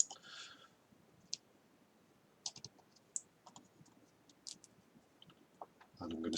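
Small screws being set by hand into RC10B6.4D car parts, heard as faint, sparse clicks and light taps scattered across a quiet background, followed by a louder rustle at the end.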